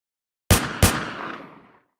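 Two sharp gunshots from the video game Entry Point, about a third of a second apart, each loud and close with a ringing tail that fades over the following second.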